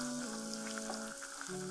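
Onions sizzling in hot oil in a pan, a steady close frying hiss with faint crackles over a low background hum.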